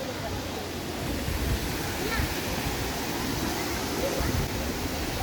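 Hot spring waterfalls at Tolantongo, Mexico pour in a steady, loud roar of rushing water, a continuous broadband wash with no breaks, heard close by and with faint voices blending into the background.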